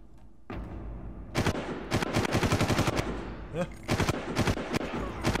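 Rapid bursts of synthetic gunfire from the video game Far Cry Classic crackle in quick volleys, loud and close, with short pauses between rattling rounds.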